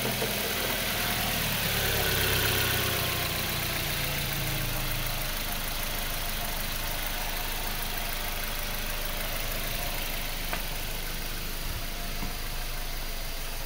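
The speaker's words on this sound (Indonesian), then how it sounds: "Suara mesinnya masih bersih ya." A Suzuki Jimny engine idles steadily and quietly throughout, a smooth continuous hum with no speech over it.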